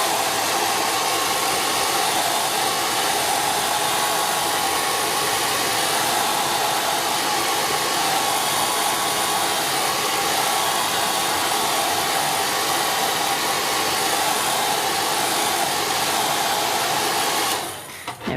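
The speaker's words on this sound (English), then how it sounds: "I do recommend having a hairdryer to hand," A hair dryer blows on an ink and watercolour painting to speed drying, giving a steady, close, unbroken whir for about seventeen seconds before cutting off.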